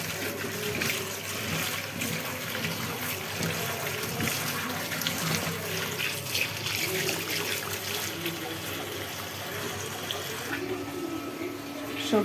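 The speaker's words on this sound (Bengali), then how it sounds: "ভালো করে ধুয়ে নিচ্ছি।" Carrots and papaya are rinsed under a running kitchen tap, making a continuous close splashing and trickling sound throughout.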